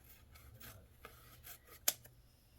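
Scissors snip through a cardboard divider at a craft table in a series of faint, soft cuts and rubbing scrapes, with one sharper snip standing out, quiet and close with no talking.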